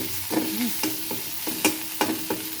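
Green chillies fry in oil in a pan for a potato, pointed gourd and egg curry, with a low sizzle broken by repeated sharp scraping clicks as the pan is stirred. No one speaks.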